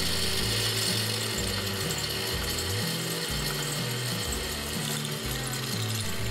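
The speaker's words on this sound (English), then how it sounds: "center punch and drill the upper keel tube hole." A drill bores the upper keel tube hole of an EMG 6 aircraft, the workpiece held in a centering V block, giving a loud, continuous mechanical whir with a rhythmic, ratcheting pulse throughout.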